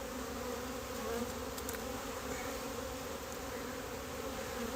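Honeybees buzzing around an open hive during a February inspection, a steady, even drone of many bees close by, continuous for the whole stretch with no talking.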